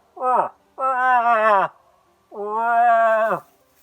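A voice imitates the call of an annoyed cow moose pestered by a young bull: one short nasal bleat followed by two long, drawn-out, wavering moans, clear and close with pauses between.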